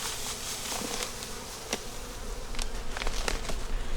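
Honey bees in a kept hive give a dense, steady drone, swelling slightly toward the end, near and continuous with a few sharper buzzing passes and no voices.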